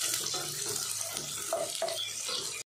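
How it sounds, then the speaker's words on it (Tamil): Large onions sautéing in hot oil in a pan for a chicken gravy, giving a steady close sizzle and crackle with faint stirring scrapes. "பெரிய வெங்காயத்தை சேர்த்து நல்லா வதக்கிக்கலாம்."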